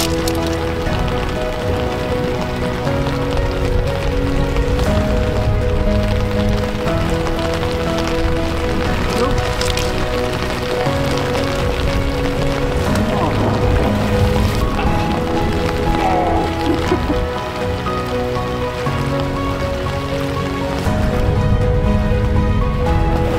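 Heavy thunderstorm rain pours down at Lake Zajarki during a carp fishing session, a dense, loud and unbroken hiss of drops hitting water and surfaces for the whole stretch.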